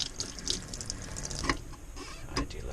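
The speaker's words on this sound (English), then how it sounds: "I do love that hot water." Hot water runs steadily from a tap into a sink in an RV kitchen, a soft continuous flow close by with a few small clinks and knocks over it, and no talking.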